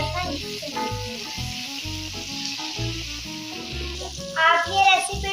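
Masala okra with tomato and green chili sizzles in a pan while being stirred, a close crackling fry broken by repeated scraping stir strokes, growing louder near the end.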